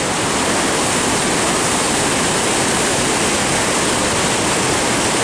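Rushing river water pours fast and heavy beneath a bridge in Sweden, a loud, steady broadband roar that holds unbroken from start to end with no voices.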